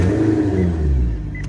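A 2011 Maserati GranTurismo S engine runs close by with a steady, loud low rumble and a rising rev, heard alone with no talking.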